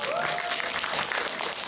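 Audience at a cinema talk event clapping for actor Oh Seung-hoon, a dense even patter of applause lasting the whole moment, moderately loud and unbroken.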